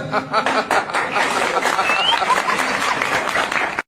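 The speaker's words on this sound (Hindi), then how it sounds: "सिर्फ इसने फोन काट दिया और लोगों ने तालियां बजा दी" An audience bursts into a brief round of clapping and chuckling right after a phone call is cut off, with dense, continuous applause mixed with laughter for a few seconds before stopping abruptly.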